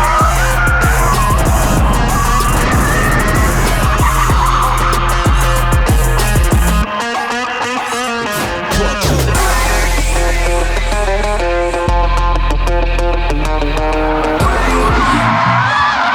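Hyundai Ioniq 5 N electric car drifting on a track, with loud continuous tire squeal and skidding that shifts in pitch as the car slides, fairly close and alone.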